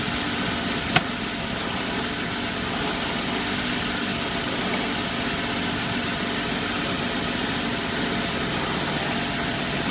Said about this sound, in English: Turn the AC compressor on.